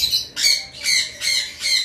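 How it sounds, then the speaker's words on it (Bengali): A breeding pair of lovebirds squawks close by, four sharp harsh calls in a quick uneven rhythm, loud and clear with nothing else over them. "সেখানে একটা পেয়ার লাভবার্ড রয়েছে"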